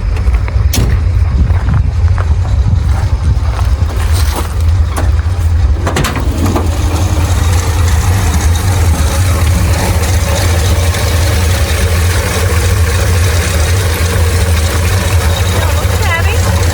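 The engine of a 1963 Chrysler Newport idles roughly and loudly with a low uneven rumble that continues throughout, while people talk over it nearby.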